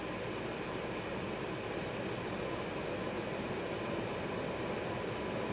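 A 52-inch Tyeb ceiling fan salvaged from a flea market runs on high at about 240 RPM, giving a loud, steady, broad whooshing hum that holds unbroken throughout.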